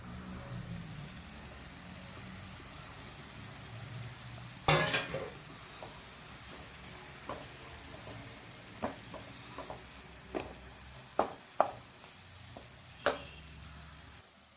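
Banana flower thoran stir-fried in a pan: a low steady sizzle with scattered sharp scrapes and clacks of the spoon against the pan, one louder clatter early on, and no talking.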